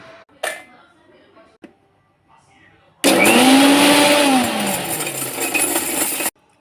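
A few faint knocks, then a mixer grinder starts abruptly and grinds loudly and steadily for several seconds, its whine sagging slightly as the load changes.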